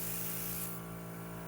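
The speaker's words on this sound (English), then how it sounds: "you can also test it by just spraying the water through" An airbrush spraying plain water through its nozzle during cleaning of a new airbrush gives a steady, close hiss that is brighter at first and then settles to an even, softer spray, with no talking.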